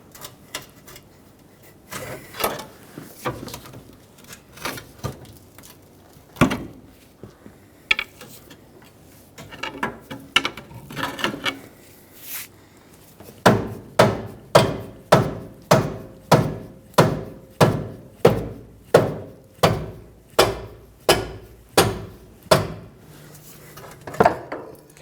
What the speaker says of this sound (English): Now from the back, let's pry the control arm out of its mounting location.